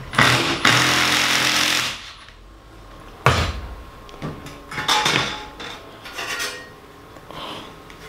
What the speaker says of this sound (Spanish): Voy a sacar los tornillos y vamos a ver cómo quedó.